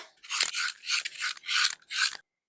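A carrot being peeled by hand for carrot cake cupcakes, with five rhythmic rasping scrapes in quick succession, close and fairly loud, then silence.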